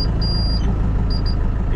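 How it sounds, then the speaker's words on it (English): A Kubota HST tractor's remote control system sounds a series of high electronic beeps as it starts, one long tone followed by several short ones, over the steady low rumble of the running engine. "you can hear different type of the beep when starting"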